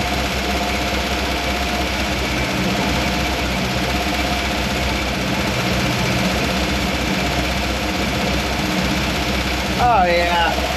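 A Jeep FC-150 engine idles with a steady, loud mechanical chug after its carburetor is adjusted, running continuously close to the microphone.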